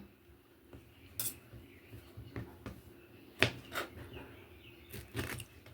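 A knife slices okra that has been softened in salt water, cutting each pod in two. Faint, irregular taps and clicks of the blade striking the cutting surface sound close by, with no talking.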